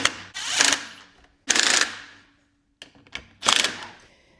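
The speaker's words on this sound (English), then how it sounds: "so I'm using my impact driver and then just tightening them down with my socket." A handheld impact driver snugs bolts on a beadlock wheel rim in three loud, close whirring bursts of about half a second each, separated by brief pauses and a few small clicks.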